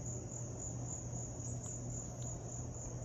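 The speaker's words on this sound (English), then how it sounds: "I don't know if those are crickets." Crickets chirp steadily in a continuous high-pitched trill, fairly soft and uninterrupted, with a low hum underneath and no talking.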